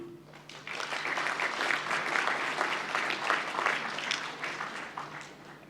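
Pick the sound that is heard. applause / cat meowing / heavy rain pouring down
applause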